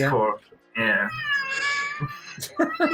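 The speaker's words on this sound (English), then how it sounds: "she just can go to room, sit in the center and start to meow meow meow" A Russian Blue cat meows loudly and drawn-out, with a second short meow after, while people talk close by.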